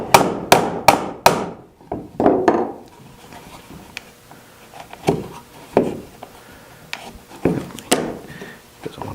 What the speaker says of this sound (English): I'm trying to just tap it through so that the boards don't come apart.